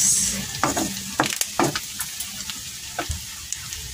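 Pork cubes fry over medium heat in a pan, a steady close sizzle broken by several scraping stirs and clacks of a utensil, with no talking.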